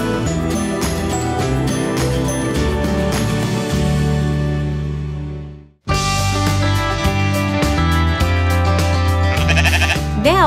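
Sheep at a sheep dairy in Bellingham bleat loudly and repeatedly, a chorus of close overlapping calls with a brief pause midway.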